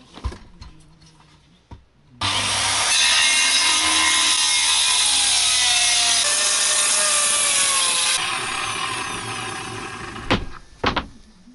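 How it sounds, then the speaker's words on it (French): A circular saw whines loudly through a panel for straw house construction for about six seconds, starting abruptly after a few faint knocks and winding down with clunks at the end. "on prend une petite circulaire."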